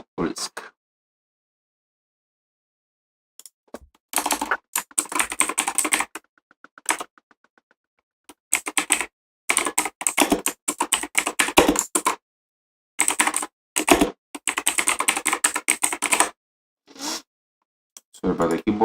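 Bursts of rapid computer keyboard typing come in uneven stretches separated by silent pauses, close and fairly loud.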